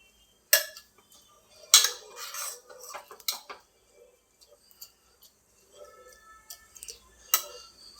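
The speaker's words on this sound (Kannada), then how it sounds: "ಇದು ಚೆನ್ನಾಗಿ ಮಿಕ್ಸ್ ಮಾಡ್ಕೋಬೇಕು." Palak sambar being stirred in a pot with a metal spoon: a few sharp, irregular clinks and scrapes against the pot, close by with quiet gaps between them and no voices.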